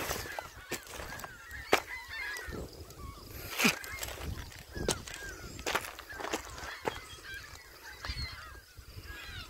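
A flock of geese honks repeatedly outdoors, a dense chorus of overlapping calls at moderate distance, with footsteps and rustling nearby.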